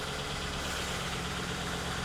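A GM L77 V8 swapped into a Holden VF idles steadily after sitting in storage for a long time, a close, continuous rumble with a faint rattly edge and no speech.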